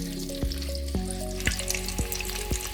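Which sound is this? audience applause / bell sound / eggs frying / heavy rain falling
eggs frying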